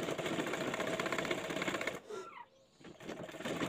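Sewing machine stitching a sleeve onto a top for a 2–4-year-old child, whirring in a steady rapid rhythm close by, halting briefly before running on again.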